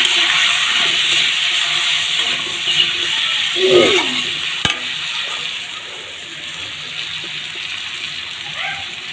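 Spiced kalai greens with turmeric and chili powder sautéing in a pan: a steady, loud sizzling hiss runs throughout, with occasional stirring scrapes and a brief clack near the middle.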